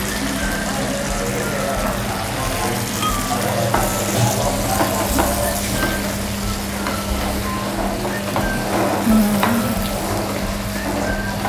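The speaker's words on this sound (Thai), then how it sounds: "ก็ผัดให้เข้ากันนะคะ" Ingredients stir-fried in a pan with a little soup added, giving a steady, loud sizzle with scraping stirs throughout while people talk over it.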